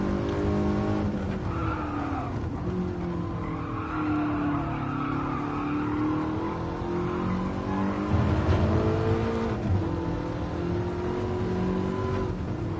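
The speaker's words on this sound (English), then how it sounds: "That car is quite strange because it allows to rev it really, really high." A race car engine in Gran Turismo Sport screams at very high revs, rising and dipping through gear changes over a continuous bed of tire noise and skidding, loud and steady throughout.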